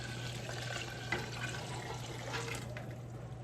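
Bouillon broth made from base is poured from a four-quart container into a soup pot of homestyle cabbage roll soup, giving a steady, close liquid splash and trickle over a constant low hum, with no talk.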